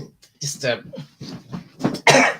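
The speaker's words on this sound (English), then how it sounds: "that was me coughing" A person coughs a few times up close, short harsh bursts separated by breathy pauses, the last one loudest.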